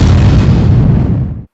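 A grenade goes off in a Luigi video game as one loud, close, deep boom whose rumbling tail fades over about a second and a half before cutting to silence.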